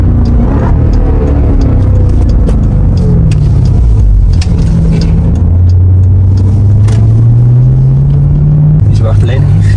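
An 800 hp Jeep Trackhawk SUV accelerates hard, its deep engine rumble climbing steadily in pitch and staying loud and close throughout, with people talking over it.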